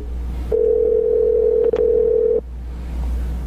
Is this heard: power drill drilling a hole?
no